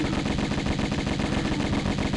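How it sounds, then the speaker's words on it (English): Rapid gunfire from Tomb Raider on the PS1, a dense continuous burst of shots rattling without pause at steady loudness, with no talking over it. "I will try and shoot him anyway."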